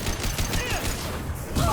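Weapon fire in the video game Mass Effect 2, a quick cluster of sharp shots and impacts amid game sound effects, with talking over the top.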